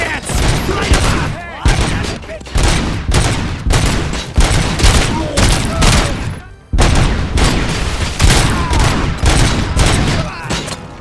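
Gunfire from the RoboCop Rogue City video game, with rapid dense bursts of loud shots and booming impacts repeating in heavy volleys, close and intense, separated by brief pauses.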